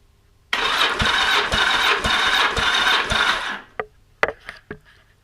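A Yamaha XS1100 motorcycle engine cranks over on the starter during a compression test with a slightly flat battery, a loud rhythmic churning of about five compression strokes for three seconds, then stopping, followed by a few sharp clicks and clunks.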